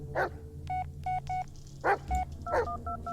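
Telephone keypad tones dialing voicemail in the video game Blair Witch, a series of short evenly spaced beeps at moderate volume, mixed with a dog barking several times in between.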